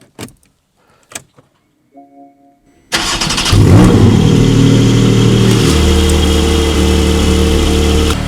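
Porsche car engine starting after winter storage in a garage: a few soft clicks and a brief whir, then the engine cranks and catches with a loud roar before settling into a steady, close idle.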